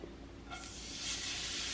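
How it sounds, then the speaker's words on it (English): Shredded potatoes land in hot oil in a pan, set up away from the stove in a home kitchen; a soft, quiet hiss breaks in after half a second and swells into a steady, spreading sizzle. "Hear that? Sizzle, sizzle."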